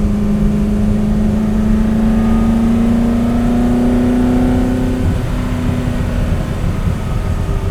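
Loud, steady drone of a Superformance Ford GT40 MkII race car engine heard from inside while driving, holding a sustained pitch that rises slightly, with no talking.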